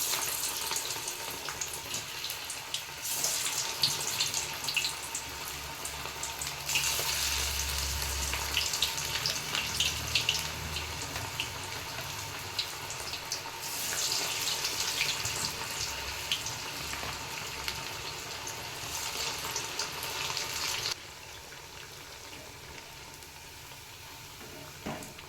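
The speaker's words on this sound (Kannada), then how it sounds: "ನೋಡಿ, ಎಣ್ಣೆ ಕಾದಿದೆ. ಇವಾಗ ತಟ್ಕೊಂಡಿರೋ ವಡೆನ ಹಾಕ್ತಾಯಿದ್ದೀನಿ." Black-eyed pea vadas frying in hot oil: a steady bubbling sizzle that swells louder in stretches and settles quieter toward the end, with no speech.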